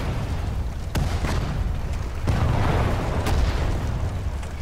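Mortar fire in the Sudden Strike 4 war game in Normandy, several deep booms and sharp blasts over a constant rumble of battle, loud and close.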